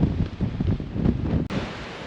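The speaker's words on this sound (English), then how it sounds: "It's pretty bloody windy up here." Strong wind at an exposed outdoor spot, roaring and buffeting the microphone in a continuous, loud, gusty rush, with no talk.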